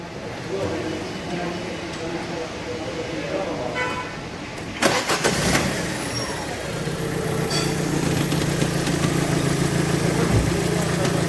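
A Fiat Doblo running on LPG, with new belts and timing parts, cranks and fires up, then settles into a steady idle. People talk over the start, and the idle hums on underneath.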